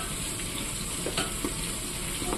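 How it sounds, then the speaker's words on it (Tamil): Green chillies and curry leaves sautéing in hot oil, a steady close sizzle and crackle with faint stirring clicks and no talk. "பச்சை மிளகாயும் கருவேப்பிலையும் நல்லா எண்ணெயில் வதங்கிடுச்சு."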